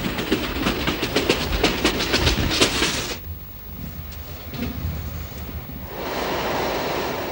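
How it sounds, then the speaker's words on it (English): A moving train rumbles and clicks in a fast rhythmic clatter of wheels on rails, loud at first, then a quieter stretch of interior rumble before a steady rushing noise returns. "Getting a fix on Mecca is not always easy in a moving train."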